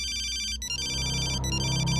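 A telephone rings steadily for an incoming call, its bright electronic trill repeating in close, loud bursts with short gaps over a low background hum.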